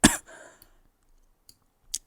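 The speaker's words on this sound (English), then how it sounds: "And excuse my cough" A single sharp cough up close, followed by a short breathy rasp and a faint click, then quiet.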